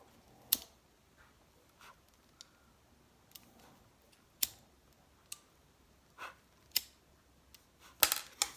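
Scissors snipping off pieces of material while a medium-sized handbag is being made, a scattering of sharp, separate clicks and snips at irregular intervals, close by over a quiet background.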